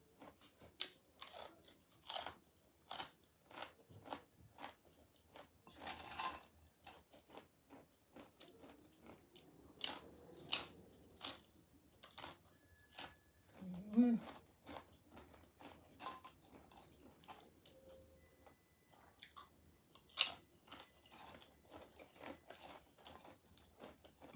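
Crunchy homemade banana chips are chewed close to the listener in a quiet room. Sharp crunches repeat in an irregular rhythm with brief pauses between bites.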